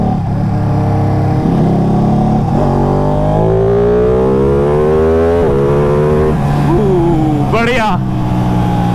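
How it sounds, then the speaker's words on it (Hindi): Ducati Panigale 959 motorcycle engine downshifting on a ride near Dehradun, loud and close, with stepped revs rising and falling through gear changes and a sharp blip near the end, while a rider talks over it. "गियर डाउन करते हैं वैसे तो।"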